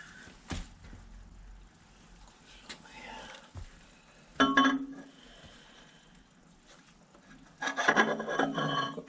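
A lubricated cylinder liner is forced into a Fordson Major engine block past its seals, producing intermittent rasping, scraping bursts of metal against rubber, louder at the middle and end, with quiet gaps between.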